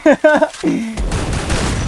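Gunfire in the Free Fire mobile battle game, XM8 rifle match: speech at the start, then from about a second a dense, continuous burst of rapid shots filling the rest, fairly loud.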